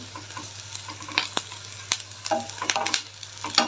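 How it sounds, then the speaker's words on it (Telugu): Vegetables fry in oil in a pan for a vegetable soup, a soft crackling sizzle broken by scraping stirs and clinks of a utensil, heard close with no voices. "ఇందులోకి కొంచెం దోరగా వేగిద్దాం"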